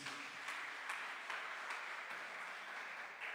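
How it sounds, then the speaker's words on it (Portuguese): A church congregation applauds during a Thursday worship service, a steady, fairly faint wash of many hands clapping that continues evenly without pause. "Aplauda ele mais uma vez."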